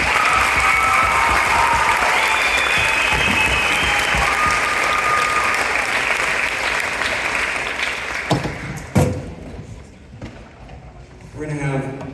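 An audience at a middle school 7th grade concert claps loudly and steadily for several seconds, the applause thinning toward the end with a few scattered claps and stray noises.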